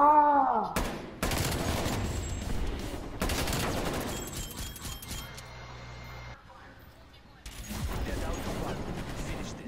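Sniper rifle shots in Call of Duty: Black Ops Cold War Search and Destroy, several loud sharp cracks in the first few seconds with game noise and player chatter around them.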